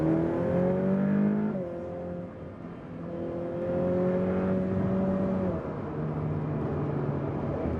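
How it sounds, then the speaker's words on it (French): A car accelerating on a track during a driving course, the engine revving up through gears with a strong whining pitch that rises, dips and rises again, heard from inside. "Les braques, et là, on accélère."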